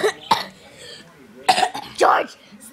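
Several harsh coughs burst out close by in uneven bursts, separated by short quiet gaps.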